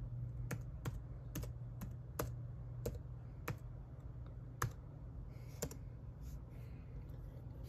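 Someone types a password on an ASUS Windows 8 laptop keyboard, a sparse run of about a dozen crisp, close key clicks spaced irregularly over a quiet background hum.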